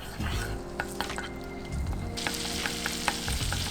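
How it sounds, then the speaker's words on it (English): Ginger garlic paste sautéing in ghee in a cast iron vessel gives a steady, close sizzle and frying hiss, with occasional stirring scrapes and small ticks throughout. "add 1/4 teaspoon of ginger garlic paste and saute it for a minute"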